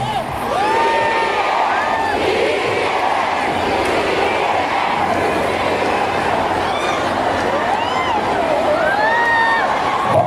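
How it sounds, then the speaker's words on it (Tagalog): Dense crowd at a Dagupan City, Pangasinan campaign rally, loud and sustained for the whole stretch, with cheering, whoops and shouted voices rising over a constant roar of applause. "Palakpak!"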